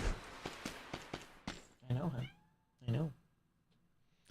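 A cat meows twice in the Dead Cells video game, two short drawn-out calls heard alongside a quick run of clicky footstep-like taps.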